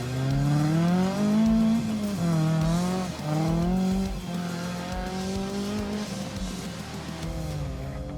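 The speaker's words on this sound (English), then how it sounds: "He's driving a Nissan GTR named Überhochspur" A Nissan GTR race car in a racing video game drives with a revving, shifting engine whine that rises and falls, loud and close, with tire noise and no talking.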